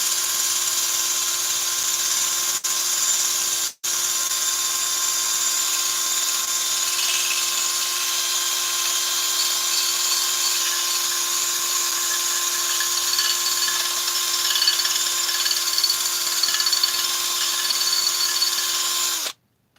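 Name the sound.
scuffing chainsaw crankcase with Scotch-Brite pad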